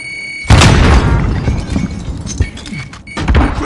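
A grenade goes off in Warzone with a sudden loud, close boom, followed by a rumbling decay and a second thump near the end.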